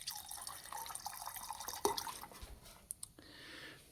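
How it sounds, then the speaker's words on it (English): Paint thinners poured from a container while refinishing a 1960 Borgward Isabella, a quiet liquid gurgle and pour with a few drips and knocks, no talk. "what happens when I pour in the thinners"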